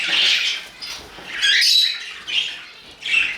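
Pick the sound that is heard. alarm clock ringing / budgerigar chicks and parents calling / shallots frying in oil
budgerigar chicks and parents calling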